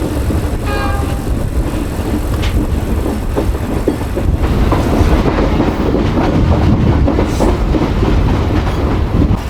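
A Millat Express passenger train runs on rails between Faisalabad stations, giving a loud, steady rumble with rhythmic clickety-clack of wheels over rail joints throughout, heard close from on board, with no voices.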